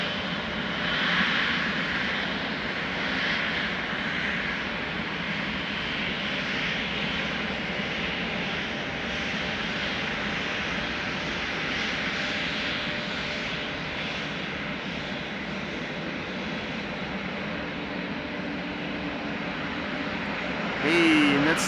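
A KLM Boeing 737-900 in SkyTeam livery departs Amsterdam Schiphol, its jet engines a steady, loud broadband roar that holds throughout.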